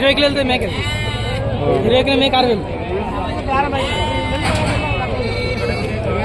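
Goats bleat repeatedly, close and loud, at a busy weekly goat market in Rayarampalle, the wavering cries overlapping with a steady crowd murmur and people talking nearby.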